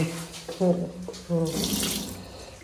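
A strong jet of water from a toilet wash spray hisses steadily, starting in bursts and then running continuously, with brief voices over the start.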